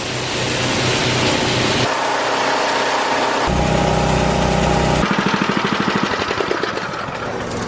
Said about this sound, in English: That'll automatically turn that auger on.